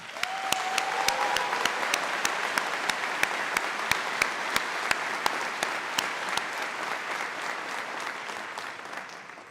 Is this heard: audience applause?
yes